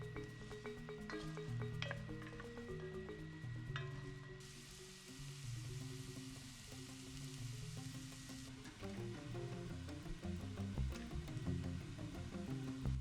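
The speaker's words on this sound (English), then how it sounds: "Add in the rest of the chopped onions and allow them to soften up and start to get brown." Chopped onions frying in palm oil in a Dutch oven, a steady close sizzle that runs unbroken throughout at moderate loudness.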